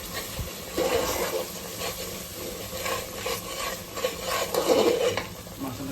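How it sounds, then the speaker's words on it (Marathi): Chicken stirred into masala in a pan, wet stirring and sizzling with scraping strokes and a steady frying hiss throughout, no voices. "आता आपल्याला चिकन ऍड करायचं"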